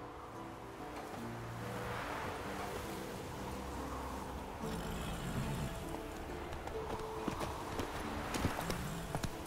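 Roach, a horse in The Witcher 3, trots with steady rhythmic hoof clip-clops at close range, backed by a soft wash of waves and ambient game sound.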